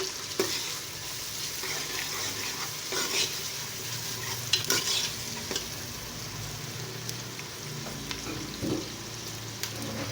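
Chopped onions with garlic-ginger paste sizzle and crackle in a pan while being stirred, with a soft, steady frying hiss and scraping, heard alone.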